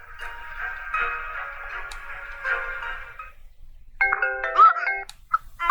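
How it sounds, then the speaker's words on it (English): A phone text message notification in the Digimon Survive video game: a sustained ringing electronic tone, then a brief pause and a few short bright chime blips, with faint background sound. "that was my phone. Your phone just got a text?"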